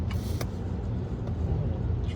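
Road traffic on a summer route heard from inside a moving car, a steady low rumble of engine and tyre noise with a couple of brief sharper clicks near the start.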